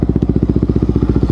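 A motorcycle engine thumps loud and close in a fast, even pulse while being ridden solo on a road trip through Davao del Sur toward Sarangani Province in the Philippines.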